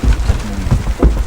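Steady rain falling outside a roadside stall, a dense continuous wash of patter with low thumps, fairly loud and close, with no one speaking over it.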